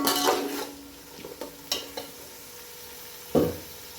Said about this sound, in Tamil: இந்த மாதிரி வெங்காயம் நல்லா வதங்கி வரட்டும்.